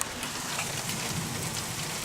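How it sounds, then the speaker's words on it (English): Steady rain pours down over a wheat harvest field in Scott City, Kansas, as a dense, even hiss with no break, loud and close, with no voices. "Yep, rained out."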